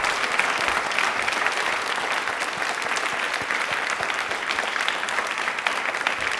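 A large audience at a quiz event gives sustained, dense applause that stays steady and loud throughout, with no break in the clapping.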